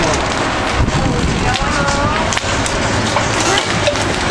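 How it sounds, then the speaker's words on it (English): Golf-ball-sized hail pounds down hard in a March storm, a loud, dense, continuous clatter and roar with gusty wind buffeting the microphone, and excited voices shouting over it. "Oh crap, dude, golf ball hail."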